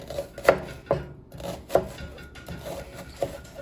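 A knife dices an onion on a board in a few sharp, irregular taps, close by with quiet room tone between strikes.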